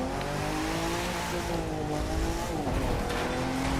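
A Nissan 370Z drifts in The Crew 2 video game, its engine droning steadily while the tires squeal in a long continuous slide, loud and close with pitch sweeping as the car swings through the turn.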